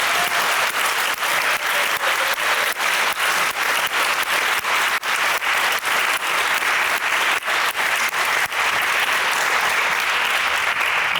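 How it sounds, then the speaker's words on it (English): A large audience claps steadily at an award ceremony, a dense sustained round of applause that stays loud and even for the whole stretch, with no talk over it. "So I would ask you all to give a round of applause to my wife here."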